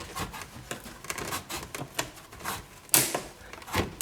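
A knife blade scraping and clicking against a rusty steel hose clamp on a fuel line hose, a string of close, sharp metallic ticks with one louder snap near the end.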